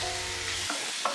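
Chopped bacon bits frying in a pan for a chicken pie, a steady close sizzle and hiss that cuts off abruptly partway, followed by faint kitchen clatter.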